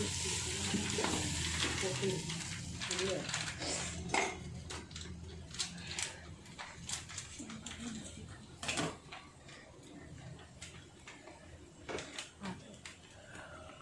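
Chicken with masala powder is stirred in a frying pan, steady sizzle under repeated spoon scrapes and knocks on the pan, with a person talking at times.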